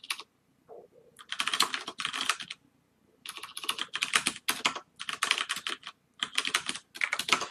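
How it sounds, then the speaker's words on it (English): Fast typing on a computer keyboard, close and crisp, in quick bursts of dense keystrokes broken by short pauses, with no talk. "I'm worried that once in a rare while I'm typing too fast for it to catch some of my keystrokes"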